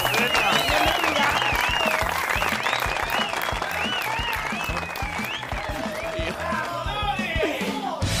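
Studio audience applauding loudly and steadily on a Spanish-language TV talent show, with music and voices mixed in throughout.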